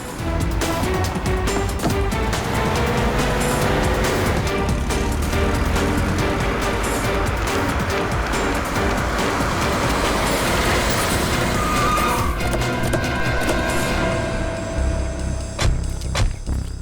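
A car driven fast along a road through hilly country, a loud continuous engine roar and road rumble filling the whole stretch without letup.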